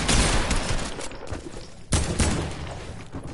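Video game gunfire and a grenade launcher, loud rapid bursts of shots with heavier blasts around the middle, close and continuous without talk.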